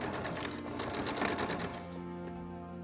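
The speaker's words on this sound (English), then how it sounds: "Start sewing down the side to the lower corner." A sewing machine stitches a cloth face mask in a fast, steady mechanical rattle for about two seconds, then stops, leaving a faint hum.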